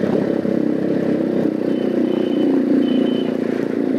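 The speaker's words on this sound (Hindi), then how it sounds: "आवाज़ भी अच्छी खासी है बाइक की" Motorcycle engine running in dense night traffic, a steady loud drone with continuous mechanical clatter, other vehicles passing close by throughout.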